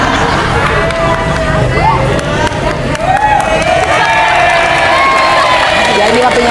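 A loud crowd at a school motivational event cheers and claps continuously, with children shouting and whooping over dense applause, close and energetic throughout.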